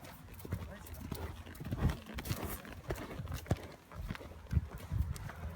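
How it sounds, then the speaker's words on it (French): Horse hooves striking the ground in an irregular clip-clop during a schooling session in German reins, close and fairly loud, with an instructor talking over the steps. "on remet le cheval au travail"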